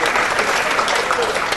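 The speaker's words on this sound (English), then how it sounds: "Please another round of applause for that." Steady, dense audience applause fills a summit hall after a talk on data and development, continuous clapping throughout the short span.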